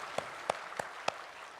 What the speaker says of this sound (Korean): 평강의 박수를 하나님께 드리겠습니다.